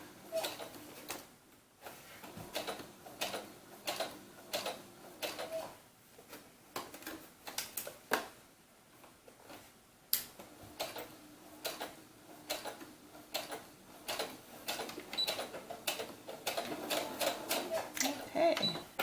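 A sewing machine stitches a doll's eyelet-closure blouse in bursts of fast, even mechanical ticking that start and stop, heard from a short distance with a few quiet pauses between runs.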